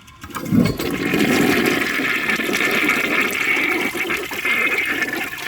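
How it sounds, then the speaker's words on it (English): A 1968 Peerless toilet flushes, a loud, steady rush of swirling water from the rim jets that starts abruptly and keeps roaring without a break for several seconds, close by and with no one talking. "I'm just gonna flush it again and see if those rim jets are working right."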